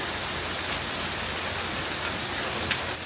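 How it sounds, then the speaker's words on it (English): Sudden heavy rain pours down around a Jeep, a dense, loud, unbroken hiss with faint scattered drop impacts. "Just started pouring out of nowhere."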